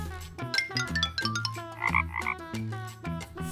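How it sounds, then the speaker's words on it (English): Frog croaking in a rhythmic series of loud, close calls, repeated bursts with short gaps, alone with no talk. "Frog."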